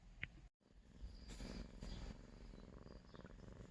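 A cat purrs close by in a steady low rumble that continues for several seconds after a brief click, soft and even.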